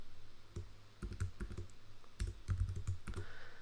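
An Excel formula is typed on a computer keyboard in close, crisp clusters of key clicks with short pauses between bursts and no talk.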